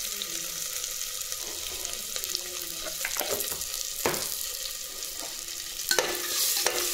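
Food being stirred and mixed with salt in a frying pan, a soft background sizzle with irregular scrapes and knocks of the utensil against the pan, close and moderate in level.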